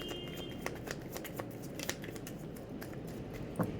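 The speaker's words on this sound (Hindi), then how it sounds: "चलिए एक बार और शफल कर लेती हूँ" Tarot cards being shuffled by hand, a quick run of soft papery riffles and flicks with a sharper snap near the end, close and fairly quiet with no talking.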